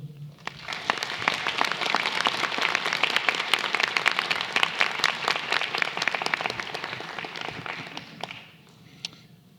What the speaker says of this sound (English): Please give our keynote, Dr. Madhumita Lahiri, another round of applause for those really inspiring words